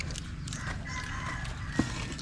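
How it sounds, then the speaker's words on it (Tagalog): Rooster crowing outdoors on a farm, a sustained mid-pitched call heard at moderate distance over a busy, noisy background with a brief sharp knock near the end. "Manok."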